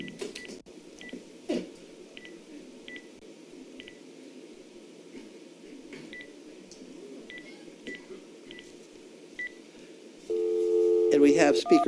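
Telephone keypad tones on speakerphone beep in a quick run of short dial tones over a low background hum, then a steady louder ringback tone takes over near the end.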